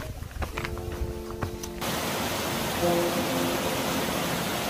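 A waterfall on the Towangseong trail in Seoraksan roars as broad, steady rushing water. It begins with some faint clattering and tones, then becomes a loud, even wash that fills the rest of the stretch.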